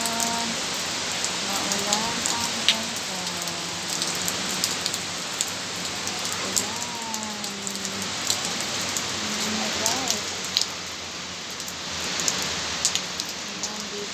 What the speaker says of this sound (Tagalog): Maulan ang Hong Kong.